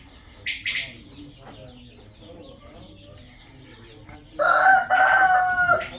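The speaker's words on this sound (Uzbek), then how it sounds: "Xo'rozni mana tonlariga ahamiyat beringlar" A rooster crows loudly and close by near the end, a long, strained call, after some earlier clucking and a brief squawk from fowl.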